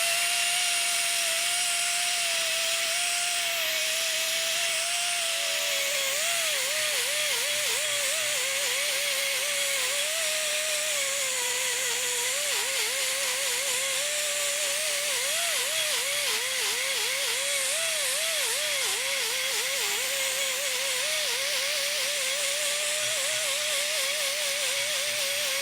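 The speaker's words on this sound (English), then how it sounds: "I like the 90-degree angle grinders like this." A 90-degree angle grinder works the inside of a surface, whining steadily and loudly at close range for the whole stretch, its pitch wavering as the load shifts, with no talk.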